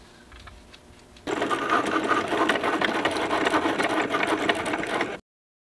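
A Cricut cutting machine slices a black cardstock circle, its motor starting abruptly into a steady, loud whirring buzz with rapid rhythmic carriage chatter that runs for about four seconds, then stops.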